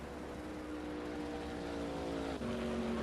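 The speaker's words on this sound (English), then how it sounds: "So we've got another car passing." Engine drone of a GT4 race car in a racing video game at Silverstone, a steady close hum with a sustained engine tone that holds and then steps down slightly as a gear shift comes in.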